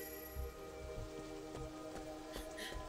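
Soft, steady video game rainfall in Sleeping Dogs patters on a surface, with scattered heavier drops ticking through a quiet background.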